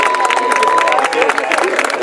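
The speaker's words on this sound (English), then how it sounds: "Can you all give them a hand clap?" Audience at a men's gathering clapping and cheering, a loud dense burst of hands and voices close by with crowd babble mixed in throughout.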